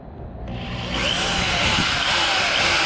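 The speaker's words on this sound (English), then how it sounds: "you stick this in here, and then you drill a hole into it" A power drill whirs steadily after a short start, drilling into a bolt on an Infiniti G35 trunk, its motor rising in pitch and holding a loud, continuous grind throughout.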